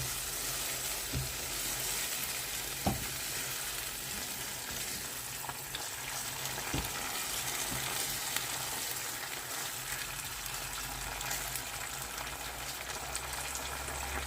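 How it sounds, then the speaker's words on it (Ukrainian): Steady sizzling of a sweet and spicy dinner stewing in a frying pan, a continuous soft crackle with a few light clicks of a utensil against the pan. "Залишаємо на декілька хвилиночок, щоб воно разом протушкувалося."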